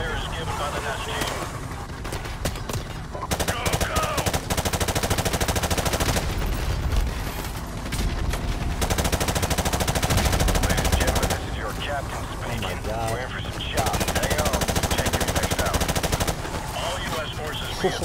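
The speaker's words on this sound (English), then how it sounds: "Oh, that rocket almost hit us." Sustained rapid machine-gun bursts and heavy blasts fill a Call of Duty 4: Modern Warfare battle, loud and dense with brief lulls between volleys, while game voices speak over the combat.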